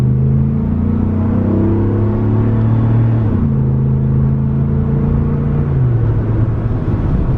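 A first-generation Ford Raptor pickup's engine rumbles loudly from inside the cab as the 5,800-pound truck accelerates, pitch climbing and dropping with each gear shift.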